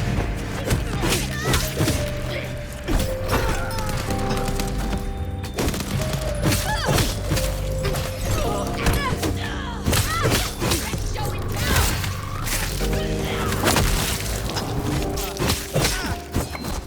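Whip strikes, thuds and clattering objects from hand-to-hand combat in the video game Toreador nights as Isabel, a busy run of repeated whacks and impacts over layered game music.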